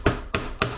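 Three sharp hammer blows at an even pace strike a backpack pocket to flatten it, each one close and distinct with no talk.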